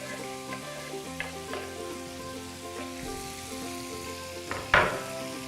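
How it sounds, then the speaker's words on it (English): One chopped medium onion hits melted butter in a pan for daal makhni, with a low steady sizzle, a few faint taps, and a sharp louder sputter near the end. "I'm gonna add my 1 medium size chopped onion in this."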